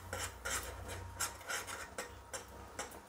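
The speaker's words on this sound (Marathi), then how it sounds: "छानपैकी असं चमचा आपला गोल फिरवून पूर्ण असं मिक्स करून घ्यायचं छानपैकी." A spoon stirs gram flour into hot water in a pan for Maharashtrian pithla, making quiet rhythmic scraping and rubbing strokes about every half second, with no voices.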